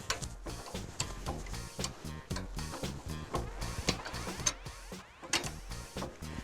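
A Terrain Tamer 4WD lift jack clicks steadily as its handle is pumped, a close, regular run of metallic ticks as the pins set into position, with no voices over it.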